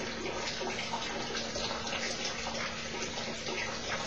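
Water flows out of an orifice near the base of a tank in a discharge experiment, a steady splashing gush heard close and continuous with a faint hum underneath.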